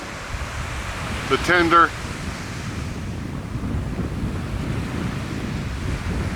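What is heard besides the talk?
ocean waves on beach, Sea of Cortez, Mexico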